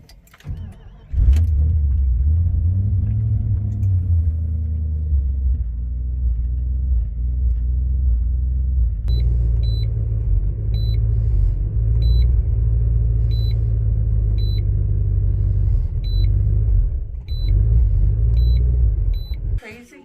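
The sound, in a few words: car engine bogging down, fuel pump shutting off mid-drive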